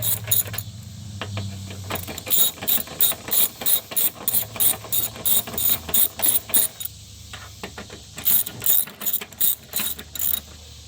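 Ratchet clicking as Torx T40 screws are tightened on the window assembly of a 1997-2002 Saturn SL2, with rapid bursts of close, crisp pawl clicks separated by short pauses.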